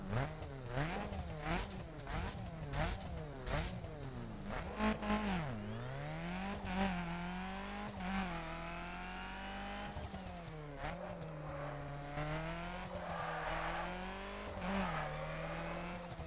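A Mini Cooper S engine accelerates in The Crew video game, revving up through several gears with rising whines and sharp drops at each shift, steady and fairly close with tire noise underneath.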